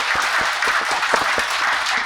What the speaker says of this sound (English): So let's have a clap for her.